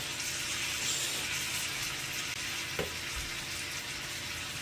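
Steady, crackling sizzle of meat frying in a hot pan on a stovetop, close and continuous, with a faint clink partway through.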